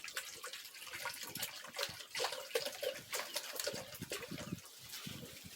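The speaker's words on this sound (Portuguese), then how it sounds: "Jogar água." Water poured into a PET plastic bottle during a classroom isothermal-transformation experiment: an irregular splashing, gurgling pour with bright spattering transients, continuous and close, heard alone without talk.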